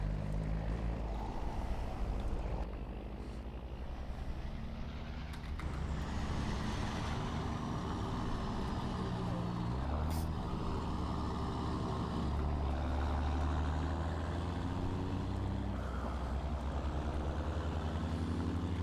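Truck engine in Farming Simulator 19, a low continuous rumbling drone with shifting pitch and a brief sharper burst midway, heard alone at moderate loudness.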